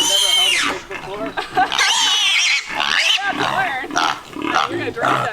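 A Red Wattle feeder pig, newly arrived on pasture, squeals while being held, giving loud, shrill, close-up screams in repeated bursts with barely a pause.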